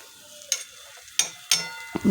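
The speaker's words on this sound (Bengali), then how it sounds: "এখন পরোটাগুলো ভালো করে ভেজে নিচ্ছি" Parathas frying in a pan give a few sharp, close scraping and flipping knocks separated by quiet gaps, with only a faint sizzle underneath.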